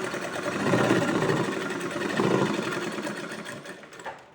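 A sewing machine runs steadily while stitching a rabbit-style cap, its motor whirring close and fairly loud with rhythmic needle chatter that swells and eases, then trails off near the end.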